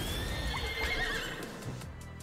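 A horse whinnies loudly in the video game Miitopia, a bright drawn-out neigh over steady background game music with a few soft hoof clops, lasting about two seconds.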